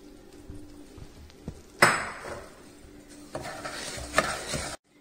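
Semolina (rava) being stirred in ghee in a pan, a dry scraping and rustling stir with soft sizzling, louder clatters of the spoon against the pan near 2 and 4 seconds, then abrupt silence.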